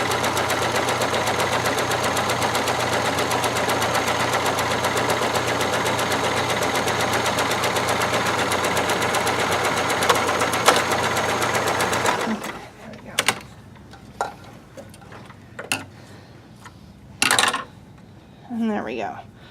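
A slightly dry sewing machine runs steadily and loud while stitching a French seam, starting with a backstitch, then stops abruptly and gives way to a few scattered clicks and short fabric-handling sounds.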